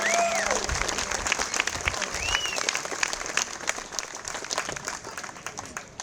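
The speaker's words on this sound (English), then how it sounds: "So we could give this young gentleman a round of applause here as he makes his way up here to the stage here." Applause at a festival opening ceremony, a crowd clapping steadily while a couple of short whistles or cheers rise over it, gradually fading as the clapping thins out.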